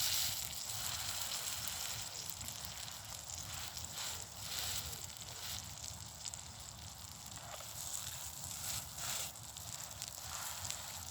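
A cheeseburger sizzles and fries in a pan on a small camp stove outdoors in sub-zero cold, a steady continuous hiss with faint crackles, close and fairly quiet, with no talk over it.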